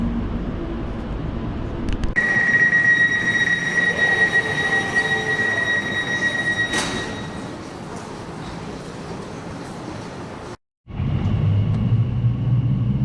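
An Elizabeth line train to Paddington, London, rolls along steadily with a loud broadband rumble and a high, sustained wheel squeal, cutting out briefly near the end before the rumble returns.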